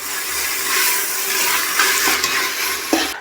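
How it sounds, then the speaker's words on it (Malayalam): Onions and tomatoes are stirred and sautéed in a hot pan for beef biryani, with a continuous sizzle, scraping spatula strokes and a few sharper clanks close by. "തക്കാളി ചേർത്തിട്ട് നന്നായിട്ടൊന്ന് വഴറ്റാം."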